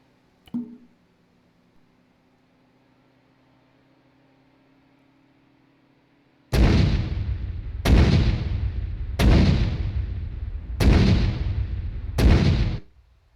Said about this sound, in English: fire support, fire mission, here, on the marker, nearest marker, 5 shells